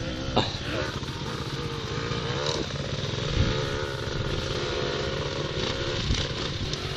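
A motorcycle engine runs steadily at idle nearby, a constant throbbing rumble with faint clanks, no speech.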